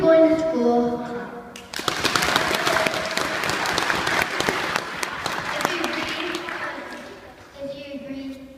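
A school assembly audience breaks into loud, sustained clapping that swells and then fades over several seconds, with a voice speaking just before it starts and again as it dies away.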